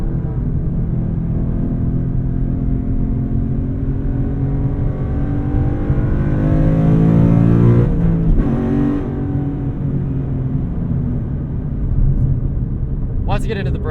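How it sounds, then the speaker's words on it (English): A 2012 Ford Mustang Boss 302 V8 drones with a steady, loud induction roar that swells under acceleration around the middle, heard from inside the car while someone talks over it. "I love that V8 induction sound too."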